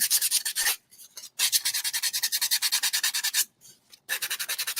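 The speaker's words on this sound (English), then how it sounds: "So you can clean up the edges with sandpaper" Sandpaper rubs briskly along painted wood edges for a tiered tray craft, making fast rhythmic scratchy strokes in three bursts separated by short pauses, close and alone.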